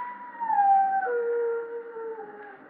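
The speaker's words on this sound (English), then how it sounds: "It means someone's going to die when a dog howls like that." A dog howls in an old radio mystery drama, one long mournful wavering howl that slowly slides downward in pitch, moderately faint and alone with no voices.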